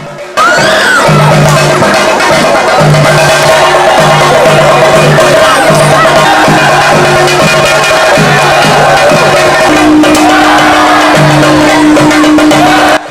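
Loud, continuous crowd roar and shouting at the Narkkolam Bhagavathi temple annual Kaliyattam festival as boys compete throwing coconuts, with a steady droning tone running underneath the whole time.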